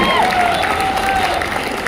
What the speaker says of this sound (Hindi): उनके लिए भी जोरदार तालियों से स्वागत करते हैं